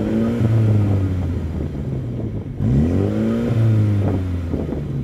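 MINI GP engine revved twice while parked. Each blip climbs quickly, and the revs hang and fall slowly afterward, close and loud with a breathy intake rush.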